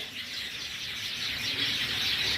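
White Java sparrows at a breeding farm form a dense, continuous chorus of high chirps, many birds at once, steady and moderately close, with no talking.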